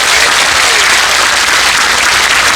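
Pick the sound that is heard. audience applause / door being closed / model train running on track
audience applause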